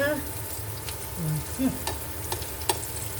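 Dried fish frying in oil with a steady low crackle and sizzle, broken by scattered utensil clinks and scraping stirs at close range.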